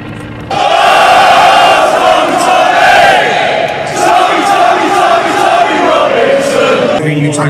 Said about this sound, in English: All right, guys, so we're walking through this crowd here.